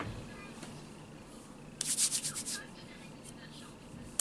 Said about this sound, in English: So I rub it up, and I just rub it on my face